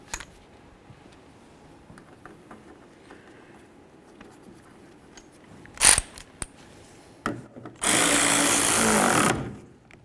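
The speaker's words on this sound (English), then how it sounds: "and then we'll tighten up the nut" A power tool tightens the nut on a wiper arm of a 1994-2004 Chevy S-10, with brief mechanical clicks and then a loud steady whirring burst of about two seconds near the end, no talking.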